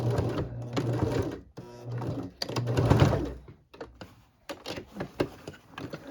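A sewing machine that is acting up stitches the lapel of a Tang Soo Do martial arts uniform, running in close, loud rattling bursts that stop and restart several times with short pauses between.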